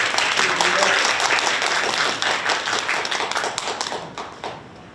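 At a 2024 youth sponsorship-day event, an indoor audience claps loudly to welcome guests, a dense patter that thins and fades over a few seconds, with some voices underneath.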